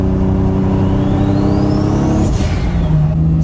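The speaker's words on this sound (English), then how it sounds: "So like brake boosting, it just takes a little bit longer." A car engine holds a loud, high rev while brake boosting, its pitch climbing steadily before dropping back, close and sustained throughout.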